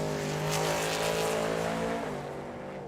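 A pair of pickup trucks launch down the strip at Tucson Dragway, engines roaring loud and rising in pitch as they accelerate, then the sound shifts and fades as they pull away.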